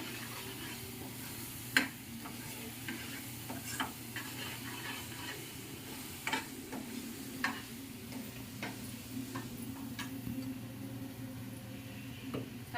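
A spoon stirs chili powder into an egg masala curry in a pan, with irregular soft clicks and scrapes over a low steady sizzle, fairly quiet throughout.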